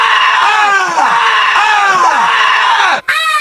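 A soldier screams at full force as if a killer, a loud, strained cry in a war film that rises and falls across several harsh bursts, then breaks off briefly and starts again at the end.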